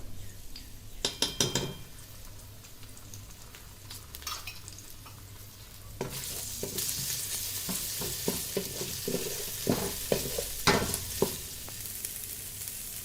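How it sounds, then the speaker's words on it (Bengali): Spices and garlic paste are lightly fried in a pot for white polao, with quiet stirring and clinks at first, then a louder steady sizzle broken by repeated scraping stirs of a spoon against the pan. "এবার এগুলোকে হালকা ভেজে নেব যাতে কাঁচা কাঁচা গন্ধটা না থাকে"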